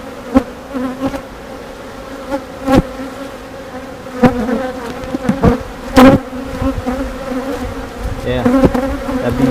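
Honeybees buzz steadily at an open hive where a laying queen and a caged queen sit among workers, a dense close drone with louder swells and brief bumps as bees pass near.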